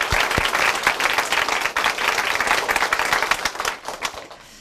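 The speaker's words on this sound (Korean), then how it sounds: "힘찬 박수로 응원해" A church audience at a Christian testimony program gives loud, lively applause, with many close hand claps merging into a dense burst that holds steady and then fades out near the end.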